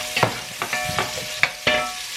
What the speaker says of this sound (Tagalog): Isusutay ko lang yung ating sibuyas natin.